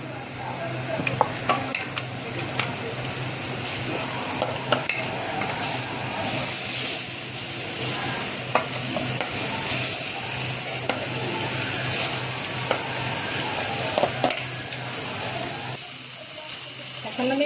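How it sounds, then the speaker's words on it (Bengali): Prawns sizzle steadily in a hot pan for Bengali chingri bhapa and bhaja, a continuous close crackle with occasional clinks of stirring utensils and faint background voices. "এখন আমি রান্না বসাবো এখন মাছ পরেতে দিয়ে দেবো"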